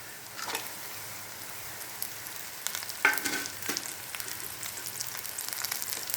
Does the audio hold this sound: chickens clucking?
no